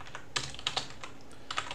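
Keys clatter on a computer keyboard in short, irregular bursts, with a few sharper strokes like the enter key, fairly quiet and close in a room with no talking.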